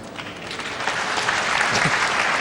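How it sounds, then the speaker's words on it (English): Spectators applaud at the 2004 World Pool Championship quarterfinal, a steady, moderately distant wash of clapping that swells slightly and continues throughout. "the crowd clapping"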